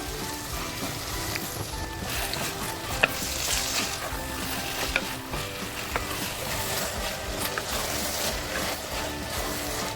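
Ginger garlic paste frying with tomato puree for a dhaba style chicken masala, a dense steady sizzle up close with occasional clicks and scrapes of stirring, no voices.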